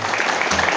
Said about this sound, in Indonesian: Boleh Bapak Ibu kita berikan tepuk tangan yang paling meriah